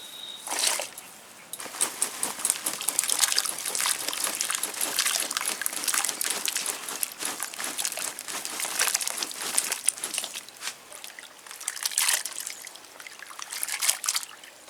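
Raw turmeric soaking in a container of water is stirred by hand, giving a steady wet trickling and sloshing with soft crinkly rustles that run throughout at moderate, close level.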